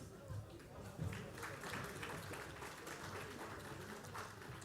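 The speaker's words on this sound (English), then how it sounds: "A huge round of applause." A crowd at the BRICS-CCI annual recognition awards opening ceremony applauds faintly and at a distance as the guest of honour is escorted to the dais, with a soft, steady clatter of clapping and murmured talk underneath.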